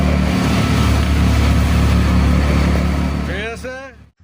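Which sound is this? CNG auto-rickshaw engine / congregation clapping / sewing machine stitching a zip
CNG auto-rickshaw engine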